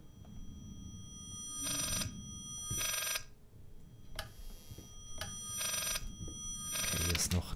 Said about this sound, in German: Das klingt nach dem Telefon.